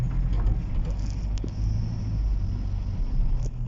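A car driving through the streets of Riyadh, Saudi Arabia, gives a steady low engine and road rumble heard from inside the cabin, continuous with no talk.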